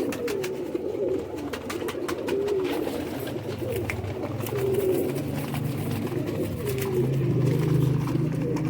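Pigeons coo steadily in a loft, high-flying birds offered for sale, their low throaty calls overlapping continuously and close by, with no talking.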